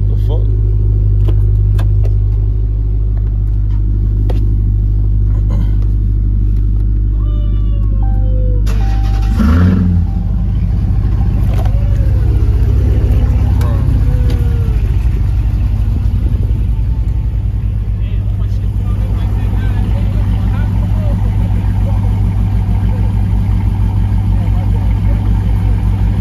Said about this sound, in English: And turn your car on.